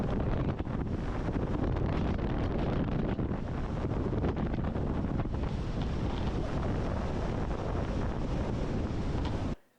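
Strong constant wind of around thirty miles an hour buffeting a fishing boat on Table Rock Lake, a loud unbroken roar of wind against the microphone with water noise beneath, cutting off abruptly at the end.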